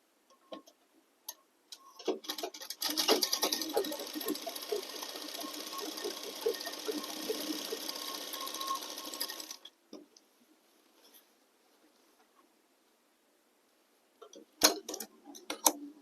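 A sewing machine runs steadily for about seven seconds as it stitches the hem of a ladies' kurti, with a brief rattle of the machine before and after the run and no talk.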